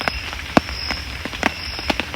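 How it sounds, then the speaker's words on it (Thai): Rain falls steadily in a forest, with scattered drops striking leaves and surfaces in irregular, close taps over a continuous soft hiss. "เพราะว่าฝนตก นะครับ"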